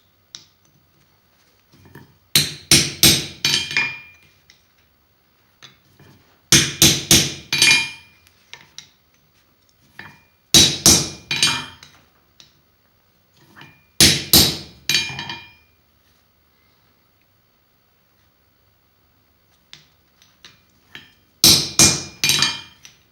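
Ball peen hammer peening rivets on a knife handle, struck in five distinct bursts of rapid, sharp metallic blows separated by pauses of silence, close and loud.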